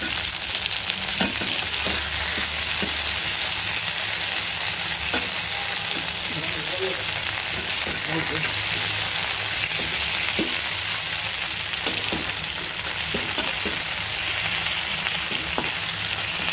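Food fries in a little oil as it is moved around the pan, giving a dense, continuous sizzle with occasional stirring clicks. Nobody speaks.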